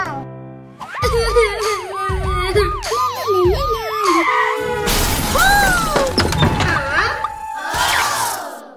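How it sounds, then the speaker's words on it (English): A toy police car's siren wails in rapid repeating sweeps, then cuts off into a loud crash and shattering clatter, followed by a few sustained electronic tones. "my police car is broken!"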